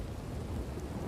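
Steady rain pours down in a thunderstorm, with a continuous low rumble of thunder filling the background at even loudness.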